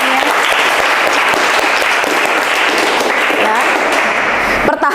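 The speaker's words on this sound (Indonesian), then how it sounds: "Tepuk tangan lagi untuk semuanya." Classroom of children clapping together for a teacher during a Hindu religion lesson, a steady dense burst of applause lasting several seconds with some voices mixed in, ending abruptly.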